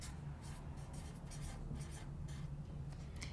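Hand writing of a single word, a steady scratching of pen or pencil on paper that runs continuously and close without pauses or talk.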